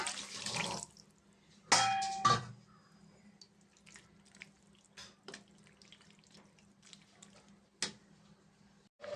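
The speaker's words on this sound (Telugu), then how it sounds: "ఇప్పుడు దీంట్లో మనం సపరేట్గా వాటర్ వేసుకుందామండి" Water splashes and pours in short bursts into a mutton curry, quiet between, with a faint clink or two in a kitchen setting.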